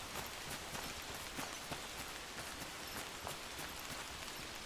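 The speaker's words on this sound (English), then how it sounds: "Oh great, it's raining." Steady rain in the video game Among Trees falls as a continuous, even patter of drops across the whole stretch, with no voices over it.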